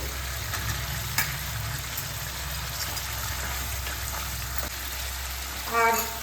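Chopped tomatoes frying in a pan of spiced oil for a small-fish curry, a continuous close sizzle with a few faint clinks and a short bubbling burst at the end.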